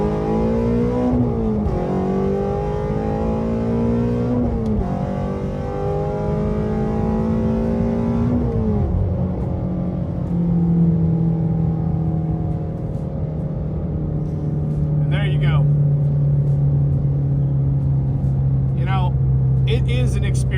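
A modified Shelby GT350R with an 8250 rpm redline screams as it accelerates hard, the engine note climbing steeply through the revs, dipping briefly at a gear change, then pulling loud and sustained again.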